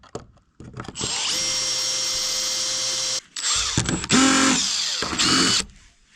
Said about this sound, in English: this carbide burr is really good. Normally you can't drill that stuff.